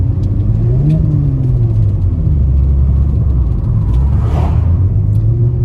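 A turbocharged Mercedes 3.2L M104 inline engine revs hard on a dyno, a loud, continuous rumbling drone that climbs and dips in pitch, with a brief hiss of rushing air near the end.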